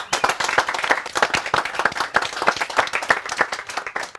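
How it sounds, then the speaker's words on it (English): Villagers applaud together in a town gathering, a dense run of hand claps with a steady patter, close and fairly loud, with no voices over it. "People, I think Aggrey needs a round of applause."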